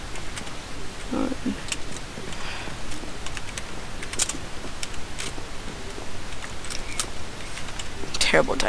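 Fast, uneven clicking on a computer keyboard during online Minecraft gameplay, with key taps scattered throughout at close range over a steady noisy background.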